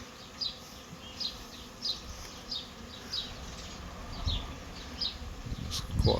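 A honeybee swarm fans in a box of supers, a steady close buzzing hum with recurring louder passes of individual bees every second or so, and some low rustling handling noise toward the end.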